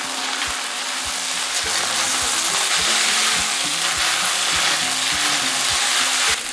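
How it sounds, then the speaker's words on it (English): Beef stir-fried in a hot pan for a Chinese chow mein, giving a loud, steady sizzle with regular scraping strokes of the utensil against the pan, close and continuous with no talking. "Put the beef and stir for 20 seconds."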